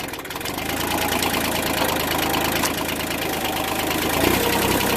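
An automatic opener motor on an uphill swing wrought iron gate with aged wood slats runs steadily in a low gear, a loud continuous mechanical drone with a rough, knocking texture, close by.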